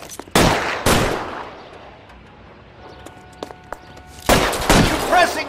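Gunfire in L.A. Noire, with two loud shots near the start and another heavy burst about four seconds in. Between them come softer clicks and tones, with no talking.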